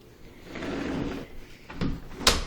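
A door slides and bumps as it is pushed open or shut during a blizzard, scraping rustles followed by a couple of sharp knocks, close by with no talking.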